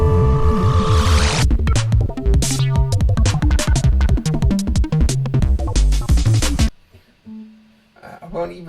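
A fast electronic track plays loud: a dense, rapid beat of clipped percussive hits and pulsing synth tones, opening with a bright wash before the drums kick in, then thinning to a quieter, sparse tail.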